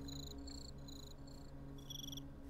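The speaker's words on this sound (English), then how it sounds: "Those crickets are going to drive me nuts real fast." Crickets chirping in a Minecraft game world, quick repeating high-pitched pulses in a steady rhythm over a low ambient hum, faint and with no voices.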